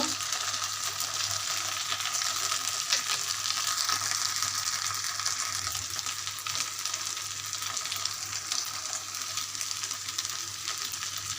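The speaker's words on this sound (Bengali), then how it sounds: "আমি এখানে একটু খিচুড়ি রান্না করব" Khichuri of nazir rice and mung dal with ginger, garlic and cumin paste cooking in a pan, giving a steady, even frying sizzle and hiss under a low hum, with no voices.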